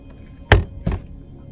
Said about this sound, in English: the uploader bangs his fist on the inside of the truck